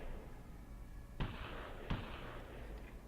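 Two sharp mortar blasts in the Graviteam Tactics war game land about a second apart over a quiet, low rumbling battlefield background, each a brief distant thump.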